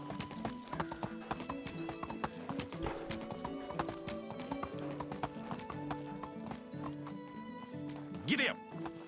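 Horse hooves clip-clop steadily at a riding pace in a video game, with a horse whinny near the end, all under game music and someone talking over it.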